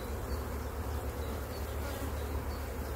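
Honeybees swarm around a hive while a nucleus colony is moved into a full hive. Their dense, steady buzzing sounds close and unbroken, with no voices.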